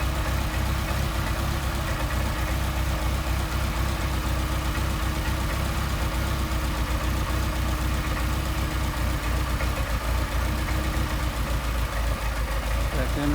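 A Mercedes 190SL engine with Solex carburetors idles steadily up close, a constant low rumble with a faint uneven pulse, running for the whole stretch after an idle-screw adjustment.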